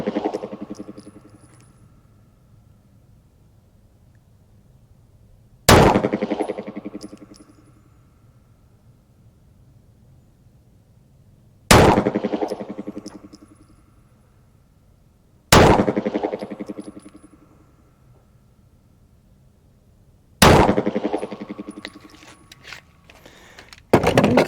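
A 9mm pistol fires defensive loads over a chronograph outdoors, four widely spaced sharp loud shots, each followed by a decaying echo, with quiet pauses in between and a fifth shot near the end.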